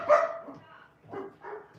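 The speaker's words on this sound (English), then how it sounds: "Sorry about the damn dogs. They're crazy." Dogs barking indoors in a house during Christmas party preparations, one loud burst followed by two more barks after a short pause, fairly close.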